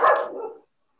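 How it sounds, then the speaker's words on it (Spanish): A dog barks once, a single short sharp bark heard fairly close, then silence, during an online mental health class. "Ese perro"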